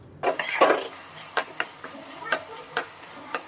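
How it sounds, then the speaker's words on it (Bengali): Ash gourd with prawns is stirred in a pan over a light sizzle, with a series of distinct spatula scrapes and knocks against the pan at uneven intervals. "দেখতেই পাচ্ছ আমি এটাকে ভালো করে নাড়াচাড়া করছি যাতে বেরিয়ে যাওয়া জলটা ড্রাই হয়ে যায়।"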